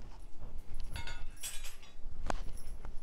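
Chopped dry fruits tipped into a pan while making sheer khurma give a quick scatter of light clinks and rattles, with one sharp knock near the end, heard alone.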